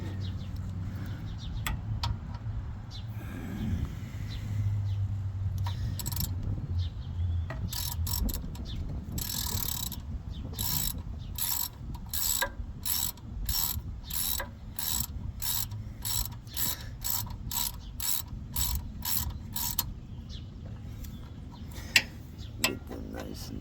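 Ratchet with a 3/8 bit tightening bolts during a wheel bearing replacement on a 1999 Chevy Express 3500, a fast run of sharp, evenly spaced clicks in bursts over a low mechanical hum, close and alone.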